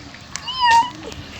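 A cat gives a single short meow, close and clear, over faint background noise.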